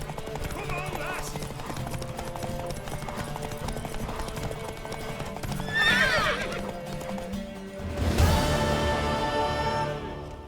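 Hooves clip-clop steadily at a gallop in the video game The Witcher 3 under background music, with a horse whinnying partway through and voices speaking over it.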